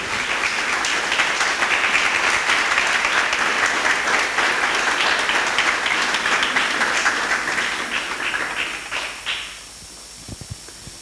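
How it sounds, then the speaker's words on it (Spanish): A church congregation claps loudly and steadily for about nine seconds, then the applause thins out and fades to scattered taps. "Dele aplauso al Señor,"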